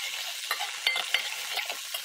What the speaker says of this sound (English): Now, we'll stir that all up.